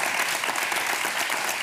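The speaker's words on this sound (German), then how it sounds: "Riesigen Applaus für die Maria" A studio audience at a TV cooking competition applauds a contestant, with dense, steady clapping that fills the whole stretch without talk.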